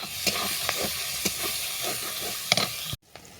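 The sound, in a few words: tempering spices, chillies, onion and prawns sizzling in oil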